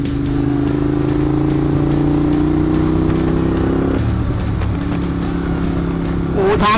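A motorcycle on a road trip through the mountain roads of Khao Kho and Phu Thap Boek in Phetchabun, Thailand, its engine droning steadily then shifting pitch as it changes speed, close and loud with wind noise.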